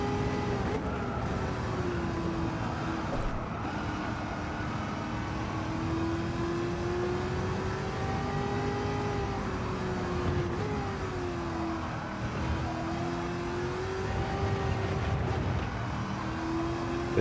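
Race car engine in a Gran Turismo 7 licence test, droning steadily and loudly for the whole stretch, its pitch rising and falling gently as the car shifts gears and works through corners, with no talk.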